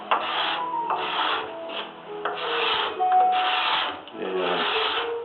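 A homemade hand scraper, ground from an old putty knife with a burr on its edge, shaves wood for an 18th-century-style tea table in long, rhythmic rasping strokes, close and fairly loud, with short pauses between passes.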